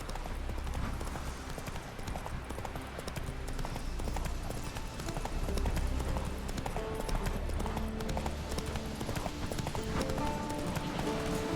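Roach the horse's hooves clip-clop at a steady walking rhythm across the terrain of Skellige in a video game, with the pace shifting under ambient game sound and music.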